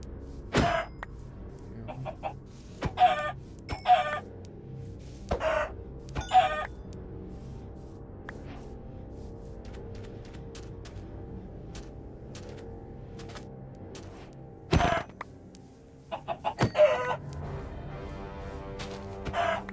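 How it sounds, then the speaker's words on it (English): Chickens clucking in Minecraft, short scattered clucks and squawks popping up at irregular intervals over a quiet background, some in quick clusters. "Gonna kill those chickens though."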